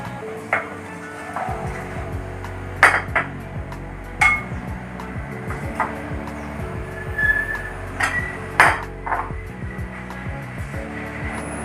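Flour (maida) being stirred into eggless mango cake batter in a bowl, the spoon clinking against the bowl in scattered, irregular taps over a soft steady background, with no talking.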